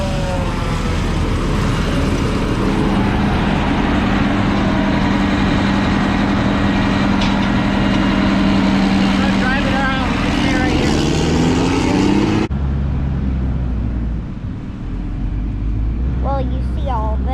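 A heavy tractor engine drones steadily at close range during snaplage harvesting, deep and continuous, with a sharp drop in tone near the end as the machine changes load.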